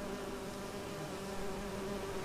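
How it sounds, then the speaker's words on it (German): Bees swarming in The Witcher 3: Wild Hunt, a dense continuous droning buzz that stays close and steady with no pauses. "Lassen uns nicht von den Bienen stechen,"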